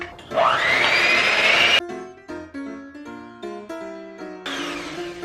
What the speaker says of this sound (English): And now I'm gonna really whisk this together.